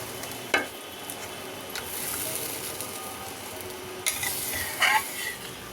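Hot water poured into a pan of sizzling spiced potato masala for a fish curry, giving a steady frying hiss with a few sharp clatters and stirring scrapes near the start and end.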